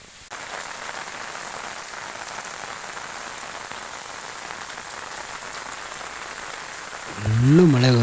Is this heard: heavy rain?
yes